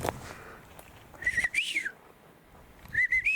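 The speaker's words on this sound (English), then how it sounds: "It's a huge jay." A large jay calls in the woods, a few short whistled notes in quick clusters, moderately near, with a louder burst at the end over a soft rustling outdoor background.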